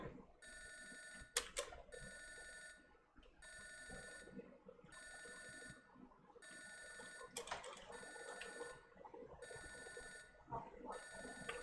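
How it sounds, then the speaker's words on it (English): A telephone rings in a repeating electronic pattern, used as background music in a video game fangame, with regular bursts separated by short gaps and occasional sharp clicks over a busy low backdrop. "This music is literally just a phone ringing."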